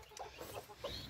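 A mother hen kept in a hutch with her chicks clucks in several short, close bursts, with soft chick-like peeps mixed in.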